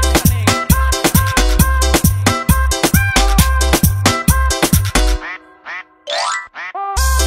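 Loud, rapid duck-like quacks repeat in rhythm as part of an energetic music track, then a few looser quacks follow near the end.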